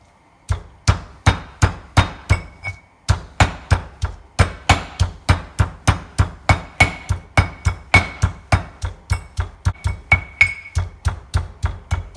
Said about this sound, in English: I'm going to mash some garlic. I'm going to add about 3 Thai chilies.